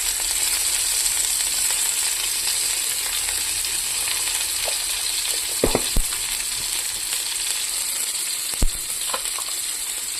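Panch phoron spices sizzle loudly and steadily in hot oil, a dense close hiss broken by a few sharp pops.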